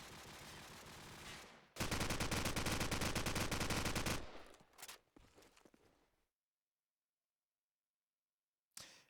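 Gunfire in Call of Duty 4 at a LAN match, with shots fired through walls: bursts of automatic fire, then a loud sustained volley, scattered shots trailing off into silence, and one last brief burst at the end.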